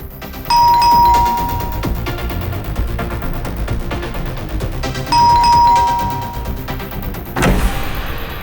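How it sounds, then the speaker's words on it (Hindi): A loud electronic doorbell chimes twice, a few seconds apart, each ring sustaining its tone over a steady background hum. "कितना घंटी बजाते हो?"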